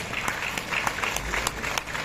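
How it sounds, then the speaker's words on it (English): Audience applause at an education boot camp in Uyo, Akwa Ibom State, a soft, steady patter of many hands heard at a distance with faint crowd murmur. "I think that deserves a round of applause."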